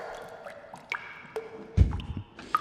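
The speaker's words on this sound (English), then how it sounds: "it sounds like the last dribble" A short trickle of liquid dribbling out in a few scattered drips and squishy splashes, with one louder wet splat near the end, close and fairly quiet.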